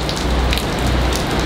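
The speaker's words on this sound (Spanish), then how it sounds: "Y ahora está lloviendo constante" Heavy rain pours constantly during Hurricane Fiona in Puerto Rico, a loud, close, unbroken roar of water hitting surfaces with no one speaking.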